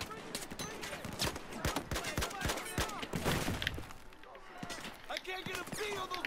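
Bursts of rapid gunfire from Battlefield 4 crack out in quick clusters, with sharp repeated shots and some louder impacts amid game noise, while a voice talks over parts of it.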